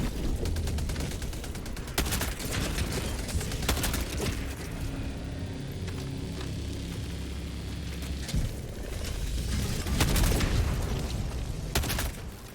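Dense gunfire and explosions from the Helldivers video game, including an exploding crossbow, a continuous loud barrage of bursts and booms with several sharp peaks throughout.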